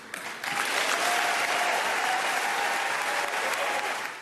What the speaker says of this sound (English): The speech was met with applause at the small Catholic college